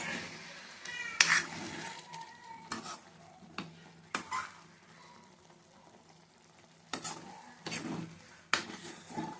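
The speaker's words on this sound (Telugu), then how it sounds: "ఇలా మగ్గనివ్వాలి, కలుపుతూ ఉండాలి, లేదంటే అడుగు అంటుతుంది" Tomato pachadi cooks in oil in a pan, with a spoon scraping and stirring in intermittent bursts over a soft steady sizzle, close up, and no talk.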